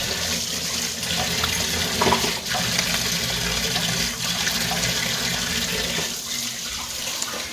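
Fish frying in hot oil makes a loud, continuous close-up sizzle and hiss, broken by a few sharper sputtering pops.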